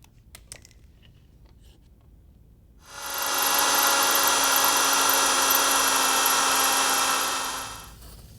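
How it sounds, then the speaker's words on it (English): Power drill boring out the caliper mounting holes on a 1967 Chevy C10 build, a few light taps and then a loud, steady high whine that runs for about five seconds before winding down, close by with no talking. "they're going to have to be drilled out and retapped"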